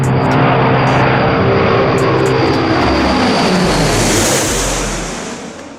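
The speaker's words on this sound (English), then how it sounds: "engines with pusher propellers are more noisy, and the turbine amplifies the noise a lot." A loud aircraft engine roars close by with a propeller drone, a broad steady rush that holds strongly before tapering off at the end, with no voices.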